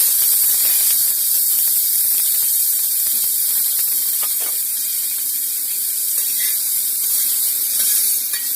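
Chopped onion sizzling in hot oil with a cumin tempering, a loud continuous hiss and spatter close up that stays steady throughout.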